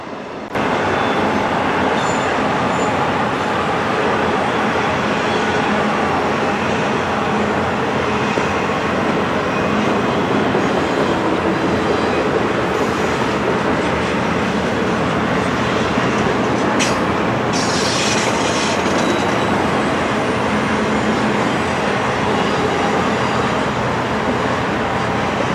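A long intermodal freight train rolls past close by in the St Paul area, a loud continuous roar of wheels and cars with occasional high metallic squeals.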